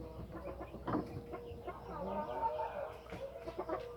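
A Bangkok rooster with a respiratory illness gives soft, raspy clucks and gurgling calls, close by, over a constant background hum.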